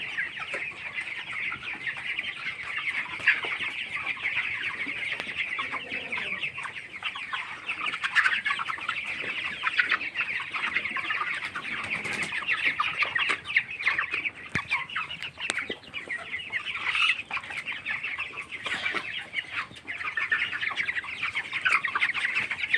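Broiler chickens, with a rooster and hens, cluck continuously on a poultry farm on a cold day, a dense steady chorus of many birds at moderate distance with occasional wing flaps and no talk.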